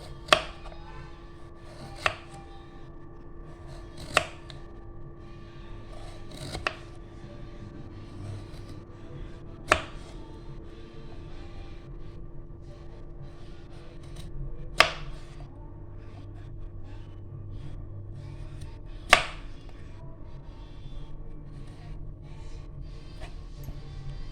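A knife chops peeled potatoes on a cutting board for crispy potato slices. There are seven or eight sharp, separate strikes spaced a few seconds apart over a steady low background hum, and no one speaks.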